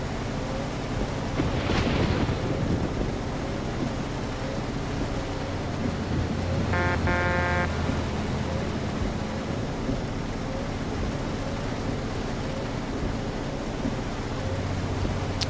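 Steady simulated rain from a weather mod in Euro Truck Simulator 2, an even wash of falling drops with a low rumble early on and a brief beeping tone midway, no voices.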